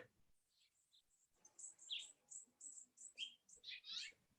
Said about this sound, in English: So I'm hearing house finch and bush tit